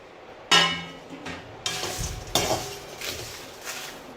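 Whole spices such as coriander seeds and bay leaf dry-roasting together in a pan for Konkan goda masala, with a few sharp stirring scrapes and clinks of spoon against metal over a soft background hiss.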